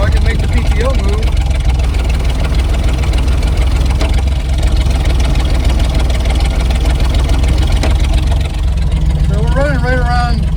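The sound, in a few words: 1969 C30 truck engine running in neutral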